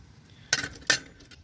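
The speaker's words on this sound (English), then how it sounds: "We have a set of metric 3/8 drive hex sockets" Used metric 3/8-drive Craftsman hex sockets clink as they are handled, with two sharp metallic clicks, close and fairly loud, in an otherwise quiet moment.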